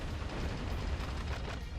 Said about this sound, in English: It's nice I can actually hear the gunshots.